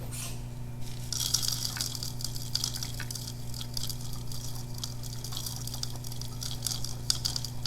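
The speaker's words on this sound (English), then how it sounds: "then I'm going to add the soil using a funnel." Soil is poured through a funnel into a pycnometer half-filled with distilled water for a specific gravity test. It makes soft, faint pattering and trickling against a steady low hum, with no talking.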